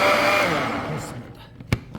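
A blender whirs loudly through a carrot yogurt mixture for about a second before winding down and stopping, leaving a quiet room with a brief clunk near the end.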